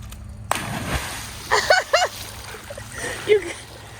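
A cannonball jump lands in an empty hotel pool at Portofino Bay, giving a sudden splash followed by sloshing water and scattered splatters; brief voices are heard alongside.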